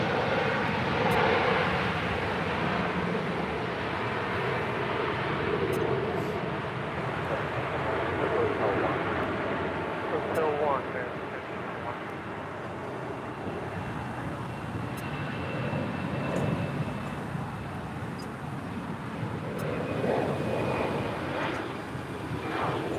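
An Airbus A320 airliner takes off from LAX, its engines a broad, loud, steady roar that holds for the whole stretch, with faint radio chatter in the background.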